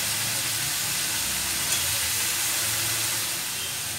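Chopped bottle gourd hits a hot pan for a prawn curry, giving a continuous loud sizzle and hiss that holds steady throughout with no one talking.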